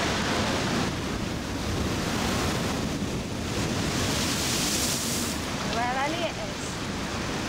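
Storm waves crash and surge against the sea wall at Dawlish during a ferocious 2014 storm, a loud continuous roar of surf churned with heavy wind noise battering the microphone.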